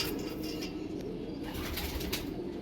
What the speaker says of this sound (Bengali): টিপলার পায়রা আছে এটা